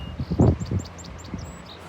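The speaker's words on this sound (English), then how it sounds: "And a song sparrow." A song sparrow sings outdoors during a nor'easter, a quick series of thin, high chirps at moderate distance over low wind rumble and rustling, with no talk.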